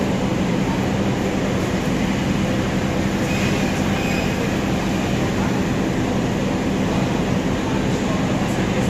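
Passenger train with economy carriages pulling into Bandung station, a loud continuous rumble of rolling wheels and carriage noise with faint squeal, heard from on board.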